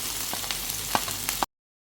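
Onions and ginger frying with nuts in a pan give a soft, steady sizzle with a few light clicks of stirring, close and fairly quiet, lasting about a second and a half before stopping.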